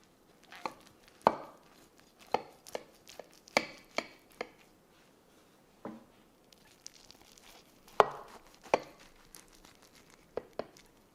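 A knife cuts into a puffed, oven-baked Mexican egg and cheese dish, giving a series of sharp, separate taps and crunches against the pan at irregular intervals, close and fairly loud, with quiet gaps between them.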